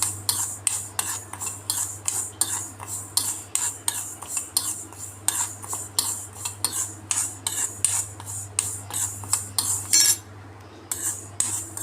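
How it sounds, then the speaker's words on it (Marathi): Fenugreek seeds dry roasting in a kadhai over low heat, with a spoon scraping and stirring in a quick regular rhythm of metallic strokes close by, each stroke rattling the seeds. "आता मी या कढईत मेथी दाणे हे भाजून घेते"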